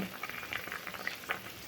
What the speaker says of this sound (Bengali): এটা বেশিক্ষণ ফোটাবো না, এটাও 1 মিনিট ফোটাবো